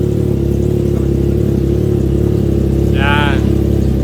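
A Triumph Trident 660 motorcycle idles with a steady, loud, low exhaust rumble close by, and a brief higher-pitched tone rises over it near the end.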